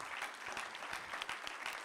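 Applause from a conference audience for four panel speakers at a digital-technology event, a steady, fairly faint patter of many hands with no talking.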